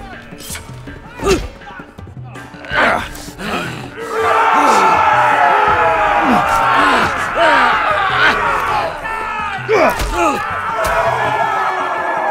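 A roaring, cheering arena crowd in a Westeros-set game swells into a sustained loud wash, with shouted voices and thuds breaking through on top.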